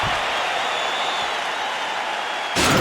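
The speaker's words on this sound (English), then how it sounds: "So the crowd voicing its appreciation after that round." A UFC 4 video game arena crowd applauds and cheers after a round, a dense, steady wash of clapping and crowd noise throughout, swelling louder at the very end.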